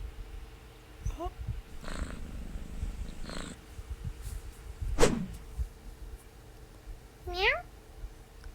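Cartoonish cat meows from the video game Escape the Black Cat, a rising meow near the start, a sharp cry midway and a loud upward meow near the end, over steady game background hum.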